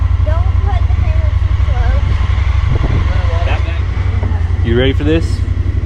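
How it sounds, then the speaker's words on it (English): A powerful engine idles loudly and steadily close by, a strong continuous low rumble running throughout, with people talking over it. "I'm just showing the engine."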